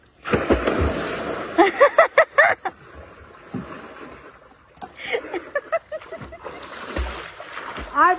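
Someone jumps into a pond, bringing bursts of splashing and sloshing water amid the voices of people talking and calling out nearby, with quieter gaps between the splashes.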